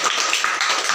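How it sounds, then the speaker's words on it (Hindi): Applause rings out to welcome a guest at a birthday celebration, a dense, steady patter of clapping hands filling the whole brief moment with no voices. "करताली सहित स्वागत करू"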